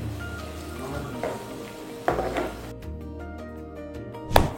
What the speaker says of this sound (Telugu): Red chilli, chana dal, ఉరగ్ dal just fry చేయాలి.